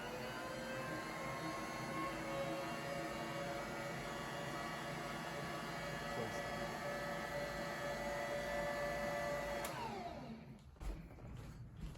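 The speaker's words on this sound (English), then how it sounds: "right now I'm just gonna turn on my mixer and I'm gonna mix this up" A stand mixer runs steadily while mixing bagel dough, a loud continuous motor whir with a steady tonal hum that holds for about ten seconds, then cuts off, leaving a brief quieter tail.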